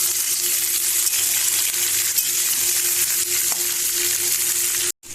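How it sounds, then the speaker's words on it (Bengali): Mixed vegetables fry in hot oil, giving a loud, close, continuous sizzle that holds steady for about five seconds before a brief cut near the end. "এবার আমি এই সবজিগুলোকে হালকা ভেজে নেব।"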